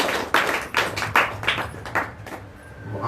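A church congregation at a gospel service in Chengalpattu claps hands in several loud, uneven bursts of overlapping claps, close and reverberant, with no talking.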